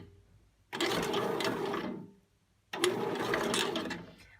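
A kitchen machine kneads bread dough for cinnamon rolls, its motor whirring in two loud, sustained runs of a couple of seconds each, separated by a brief pause.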